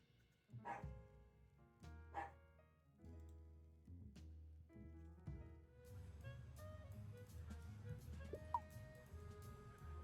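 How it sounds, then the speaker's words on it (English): Dogs barking in short, sharp bursts near the microphone, with a few separated barks early on, then a busier stretch of yapping and clucking-like calls over a steady low background hum. "Sorry about my dogs."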